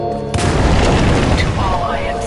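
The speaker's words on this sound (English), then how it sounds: "Detonate charges 21 through 29." Explosive charges detonate in the video game Titanfall 2 with a sudden loud boom that rolls into a dense, rumbling blast lasting a couple of seconds, while a voice talks over it.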